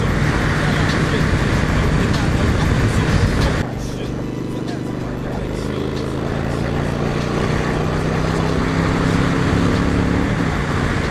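Steady roar of road traffic from a moving motorbike, engine drone and wind noise continuous, with a tonal engine hum rising in the second half.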